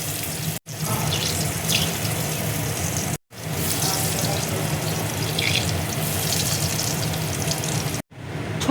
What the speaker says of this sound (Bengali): এবার আমি ছোলার ধোকাগুলো এক এক করে তেলের মধ্যে ছেড়ে দেবো।